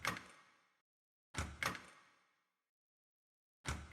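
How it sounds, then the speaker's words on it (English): A locked door sound effect for an Unreal Engine horror game: sharp metallic rattles and clunks of a door that won't open, one hit, then a quick double hit, then another, each ringing briefly into silence. "Just get the lock sound"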